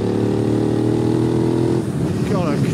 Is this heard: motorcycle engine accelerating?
yes